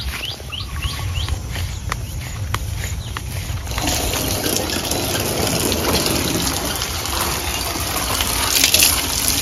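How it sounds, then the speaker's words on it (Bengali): Water runs steadily as taro is washed. A gushing flow continues throughout with a few splashes and knocks early on, and the flow grows slightly louder toward the end. "কচুটা কাটার আগে ধুয়ে নিলে খুব ভালো হয়।"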